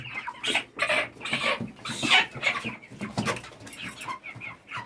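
A flock of 36-day-old white broiler chickens clucks and chirps nearby in a busy, overlapping chatter of short calls.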